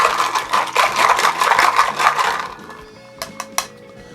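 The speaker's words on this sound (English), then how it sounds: "Then I say, just go back and forth with your bar spoon." A bar spoon stirs crushed ice in a tiki cocktail, giving a close, rhythmic clatter and scrape for about two and a half seconds, followed by a few sharp separate clinks.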